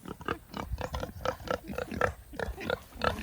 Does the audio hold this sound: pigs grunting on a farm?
yes